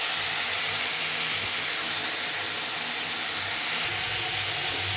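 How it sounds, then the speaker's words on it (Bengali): Vegetables fry over high heat in a pan, giving a loud, continuous sizzling hiss that stays steady and dense, with no voices. "আঁচটা বাড়িয়ে ভেজে নিতে হবে।"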